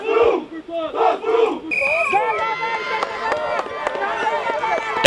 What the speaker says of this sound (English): they're cheering, they're chanting, they're doing their prayers